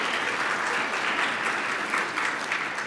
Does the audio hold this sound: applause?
yes